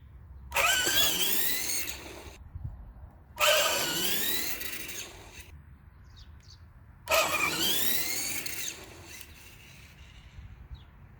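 A Tamiya Blackfoot RC truck makes three short drag-style launches, each a sudden whining electric motor burst rising sharply in pitch for about two seconds, separated by near silence.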